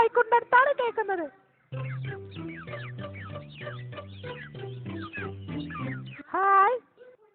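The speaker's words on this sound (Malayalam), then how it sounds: "ശബ്ദം കോഴിക്കുണ്ടടുത്താണ് കേൾക്കുന്നത്." Chickens and chicks cluck and cheep beside a chicken coop, close and lively, with a loud burst at the start and end and a voice or tune running underneath in the middle.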